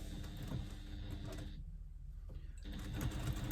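A sewing machine stitches two fabric pieces together at a quarter-inch seam for a pouch, giving a steady rapid whirring hum up close that stops for about a second, then starts running again.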